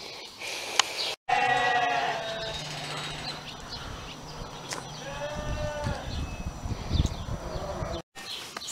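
A first-time ewe and her newborn lamb bleat several times, clear and close, with wavering drawn-out calls set against faint outdoor background noise.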